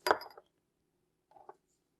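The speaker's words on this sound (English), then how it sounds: "I'm just going to stir it" A spoon clinks against a glass while stirring vitamin C serum with a few drops of vodka: a cluster of light chinks at the start, then a quieter pair of taps about a second later, close and otherwise silent.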